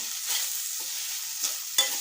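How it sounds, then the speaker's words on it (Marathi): Steady sizzle of grated fresh coconut frying in ghee, with a few soft scraping stirs of a spatula in a pan, close by with no talking. "आणि हे खोबरं या तुपामध्ये छानपैकी परतून घ्यायचं आहे"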